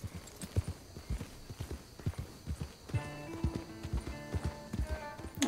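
Horse hooves galloping in the Red Dead Redemption 2 video game, a steady rhythmic clip-clop of repeated hoof beats at close range, with faint game ambience and tonal background sounds joining in the later part.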